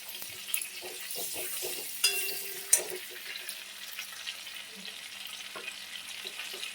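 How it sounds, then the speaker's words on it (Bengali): Soft sizzling of five-spice seeds, dried red chillies and bay leaves in hot oil in a wok, with occasional clinks and scrapes of a utensil against the pan. "এবার কড়াইতে 5 ফোড়ন দিচ্ছি, আর শুকনো লঙ্কা, তেজপাতা ফোড়ন দিয়ে দিচ্ছি"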